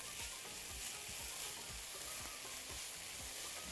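Hot and sweet peppers fry in a pan, giving a steady loud sizzle throughout, with repeated soft scraping strokes from stirring underneath.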